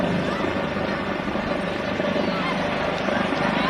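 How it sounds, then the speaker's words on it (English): A police helicopter flies overhead during a manhunt in northern suburbs, its steady rotor thrum loud and continuous under talk. "the police in the helicopter"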